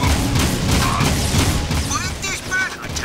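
Gunfire and explosions in the video game Jak II, a run of heavy booms and rapid shots over about three seconds, loud and close, with brief whooshing effects near the end.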